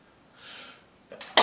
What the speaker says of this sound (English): Epic sneeze number two